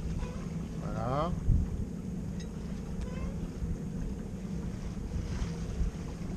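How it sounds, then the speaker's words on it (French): A sailboat tacks through a turn at sea, with steady wind buffeting the microphone and water rushing along the hull. A few brief creaks and flaps from the rigging come through, and no one speaks. "Et là, on vire de bord."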